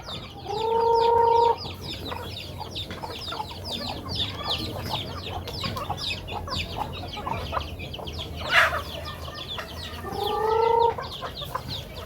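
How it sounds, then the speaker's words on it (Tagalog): Chickens and a rooster on a rural province farm in the Philippines, with repeated clucks and calls close by and louder bursts of squawking near the start and end over a steady outdoor background. "Daghan na kami manok, oh."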